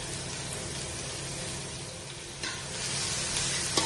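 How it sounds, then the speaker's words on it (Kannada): Onion and green chili sizzle steadily in a hot pan for a crab curry, a constant broadband frying hiss with a brief stir clatter near the end and no voices. "ಒಂದು ಈರುಳ್ಳಿ ಉಂಟಲ್ಲ, ಬ್ರೌನ್ ಆಗುವವರೆಗೆ ಇದನ್ನು ಫ್ರೈ ಮಾಡಬೇಕು."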